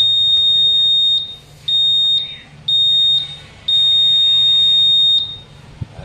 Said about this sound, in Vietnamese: Nó sẽ kêu một bíp dài, ngắn, ngắn, dài.